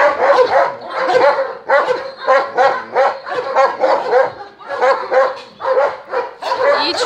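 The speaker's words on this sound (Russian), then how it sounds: "Бельгийская овчарка Малинова." A Belgian Malinois shepherd dog at a kennel barks loudly and close by in a rapid, repeated series of sharp barks, some yelping, filling the whole stretch.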